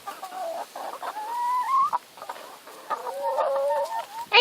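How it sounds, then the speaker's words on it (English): Nearby hens cluck in rising, drawn-out calls and short bursts, a few birds overlapping, ending with a sharp squawk. "Give the chicken what it wants."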